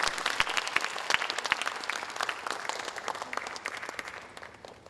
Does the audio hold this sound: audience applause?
yes